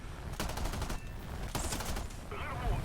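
Machine gun fire in the IL-2 flight sim video game: rapid bursts of automatic gunfire rattle at close range through most of the clip, with a steady engine drone underneath.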